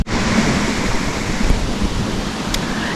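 River water rushes in a dense, steady roar close to the microphone, broadband and unbroken for the whole stretch, with no voices.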